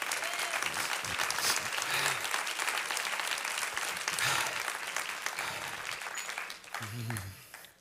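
A church congregation at a Sunday service claps hands, steady crowd applause with faint voices and brief low tones mixed in, tapering off at the end.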